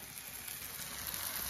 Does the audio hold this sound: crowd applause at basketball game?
no